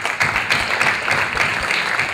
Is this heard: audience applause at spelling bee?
yes